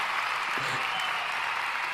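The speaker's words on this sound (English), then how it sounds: "Ladies and gentlemen, a huge round of applause for Kevin." An audience at an interview show gives a round of applause for a guest, steady, fairly soft clapping heard throughout with a few voices underneath.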